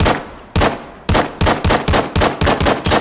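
Loud pistol shots in the VR shooter Zero Caliber, about nine sharp reports fired close by, first slowly and then in a rapid, evenly spaced string.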